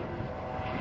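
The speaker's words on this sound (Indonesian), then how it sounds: "helikopter Panther AS-563MY tersebut melakukan searching terhadap posisi kapal selam musuh" Indonesian Navy Panther anti-submarine helicopter in flight during a naval demonstration, a loud continuous broadband engine and rotor roar filling the brief moment without pause.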